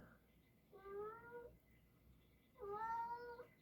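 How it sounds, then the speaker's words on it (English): An indoor pet cat meows twice, two drawn-out, fairly faint calls separated by a short pause, heard alone in a quiet room. "Oh, this poor cat. He's indoor cat."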